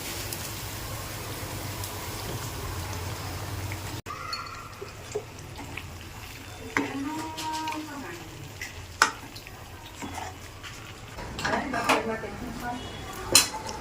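A utensil scrapes and knocks against a pan as paneer cubes are mixed into an oily curry. Faint frying sizzles under the stirring, and the clinks grow louder and more frequent toward the end.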